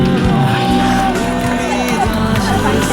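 A crowd of citizens at an outdoor rally in Gwangju's 5.18 Democracy Square in 2017 claps, whoops and cheers. The noise is dense and continuous, with shouted voices rising above the applause.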